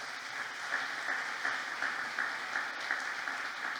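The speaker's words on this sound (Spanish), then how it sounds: "Honremos el trabajo de nuestra hermana y démosle un aplauso," An audience applauds after a talk on gender ideology, a steady sustained wash of many hands clapping at even loudness throughout, with no speech over it.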